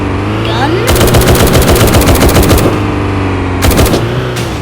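Rapid automatic gunfire from a vehicle-mounted gun in the War Tycoon video game, two loud sustained bursts over a steady engine hum, the first lasting about two seconds and a shorter one following.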